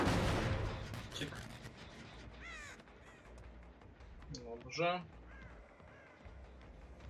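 Crows caw in the horror video game Dead by Daylight, several harsh, rasping calls scattered through the stretch with a louder burst near the end, heard under a man's speech and game noise.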